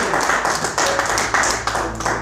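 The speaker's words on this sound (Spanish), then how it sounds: "Denle un fuerte aplauso al Señor." A church congregation breaks into a loud, dense round of applause, many hands clapping together in a steady, continuous patter that stays close and full from start to finish.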